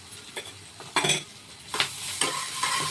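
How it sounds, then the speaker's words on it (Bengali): Ginger garlic paste and green chili paste sizzle in a hot pan, stirred with a utensil that scrapes and clinks in a few distinct strokes, close up and with no talking. "এক চামচ আদা রসুনের পেস্ট দিয়ে দিলাম, আর হাফ চামচ কাঁচা লঙ্কা বাটা।"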